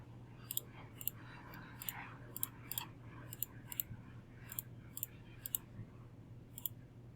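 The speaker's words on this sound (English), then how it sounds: "I'm going to go to my calculator and type that in." Calculator keys pressed in a quick, uneven run of about a dozen small, crisp clicks, close and alone over a low steady hum.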